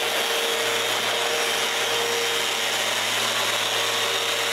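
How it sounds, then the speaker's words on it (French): A power sander chamfers the corners of a wooden band saw, giving a steady, loud, continuous broadband whir with a faint tonal hum that runs unbroken throughout. "j'en profite aussi là, pour chanfreiner les coins avec la sableuse."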